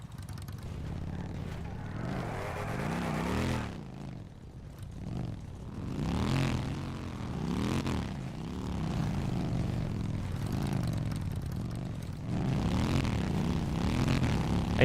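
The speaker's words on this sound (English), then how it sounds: "these motorcycles are so loud." Motorcycles pass by one after another, their engine notes rising and falling in repeated sweeps, heard at a moderate distance with no voices over them.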